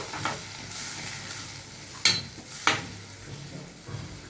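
Tomatoes and coriander go into a hot mustard-seed and fenugreek tempering for a Gujarati vegetable dish, giving a soft sizzle with a few sharp utensil clinks against the pot and no speech.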